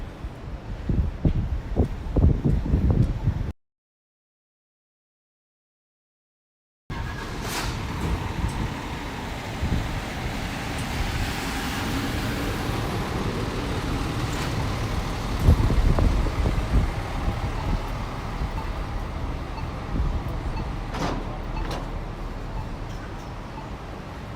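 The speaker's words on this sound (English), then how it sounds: "40-mile-an-hour winds this afternoon" Strong wind of about 40 miles an hour buffeting the microphone on Brooklyn Bridge in New York City, a loud continuous roar with gusty rumble and passing road traffic beneath, broken by a brief dropout and a stronger gust later on.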